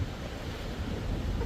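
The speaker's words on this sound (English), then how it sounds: "Remember, it's very windy." Strong wind sweeping over Loch Katrine during a steamship cruise, a faint, steady rushing roar with buffeting against the microphone and no voices.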